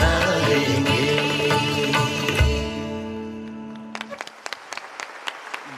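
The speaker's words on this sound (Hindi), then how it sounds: "जोरदार तालियां।" At a school education-song event in Delhi, a sustained musical finale fades out and gives way to a handful of scattered, separate hand claps from the audience.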